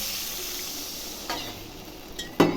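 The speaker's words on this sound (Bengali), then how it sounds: "মশলার সঙ্গে অনেকটা মাখা ভাজা ভাজা হয়ে গেছে" Spice masala for an egg curry fries in a pan, giving a steady sizzling hiss with a couple of short stirring scrapes near the end, close and without speech.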